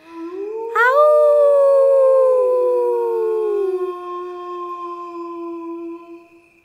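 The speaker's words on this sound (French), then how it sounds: "on a même entendu le chant du loup au clair de lune" A lone wolf howls under the moonlight, a single long, rising and then slowly falling wail that starts abruptly, holds loud and near, and trails off gradually into quiet.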